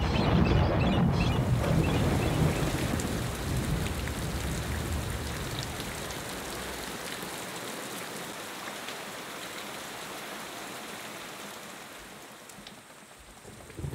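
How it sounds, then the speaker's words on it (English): Heavy rain pours steadily, a dense hiss of drops close by that slowly eases and softens toward the end. "A storm brews up overnight."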